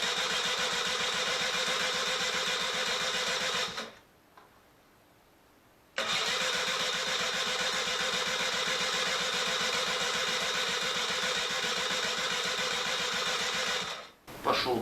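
Honda Gyro X scooter engine revived after ten years of sitting, turned over by its electric starter in two long, loud, steady cranking bursts separated by a few seconds of silence, then a brief restart at the end.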